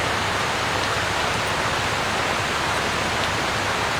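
Heavy monsoon rain pouring down outdoors, a dense, steady hiss that fills the whole stretch without a break and with no voices.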